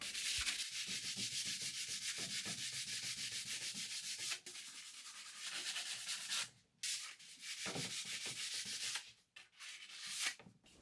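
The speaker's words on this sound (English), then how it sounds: "I'm just giving it a really good scuff sanding so the paint adheres nicely." Rhythmic back-and-forth scuff sanding with a sanding pad rasps across a wooden bedside table, steady at first, then broken by short pauses and a few louder strokes.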